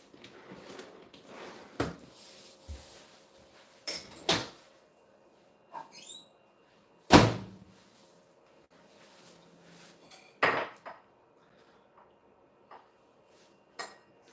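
Scattered clinks and clatters of dishes and cutlery being taken out of a dishwasher in a home kitchen, a dozen or so sharp knocks spaced irregularly, fairly faint with no talk.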